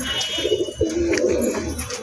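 A wild pigeon coos on a rooftop in a steady run of low, throaty calls, close and fairly loud, with no talk over it.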